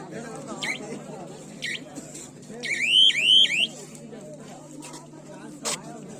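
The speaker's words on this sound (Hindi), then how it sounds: "टाइमर बंद करिए।" At a kabaddi final match, a shrill electronic timer alarm rises in repeated sweeping chirps near the middle of the clip, loud above crowd murmur and commentary, with shorter beeps before and after.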